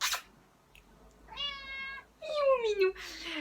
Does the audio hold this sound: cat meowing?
yes